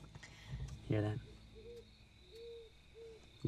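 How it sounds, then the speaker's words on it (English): A horned owl calls at night, three soft, short hoots spaced apart at a distance, following a brief louder sound, with a quiet outdoor background. "Get the horned owl this time of year."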